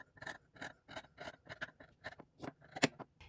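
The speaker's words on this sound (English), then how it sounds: "And then I'm gonna cut right along this line." Scissors snipping through a cotton T-shirt along a drawn line, a rhythmic series of about ten close crisp cuts, each a short rasping snip.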